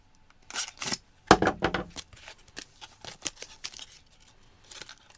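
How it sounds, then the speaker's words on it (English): Scissors snip through a toaster pastry ration pouch, giving a few sharp cuts followed by crinkly rustling of the packaging, close and fairly quiet. "Let's cut open our toaster pastry."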